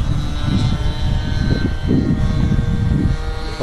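A Banana Hobby F-16 radio-controlled electric ducted fan jet flying an inverted pass, a steady rushing whine with a rumbling, fluctuating low end from an outdoor flight.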